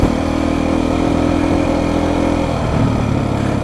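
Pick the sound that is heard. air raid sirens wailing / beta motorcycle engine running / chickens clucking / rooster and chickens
beta motorcycle engine running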